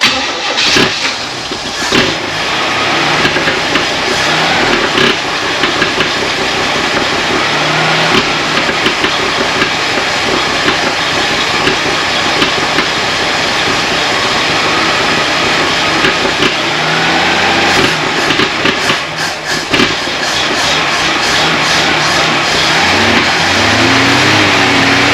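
A Chevrolet Nova engine cranks and then runs, a loud, close, continuous rumble lasting the whole stretch with uneven surges and sputters as it struggles.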